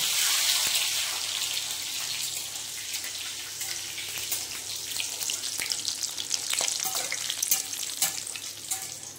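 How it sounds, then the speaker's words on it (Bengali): Raisins fry in hot oil in a pan, a steady, close sizzle with crackling pops throughout and occasional stirring, with no talk. "এবার ভেজে নিচ্ছে বন্ধুরা কিশমিশগুলো।"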